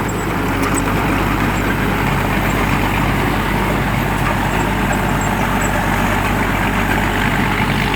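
Engine of a Sakdi Phatthana SS200 rice harvester running continuously in the field, a steady, loud, close drone with a deep low hum and broad mechanical noise, unchanging throughout.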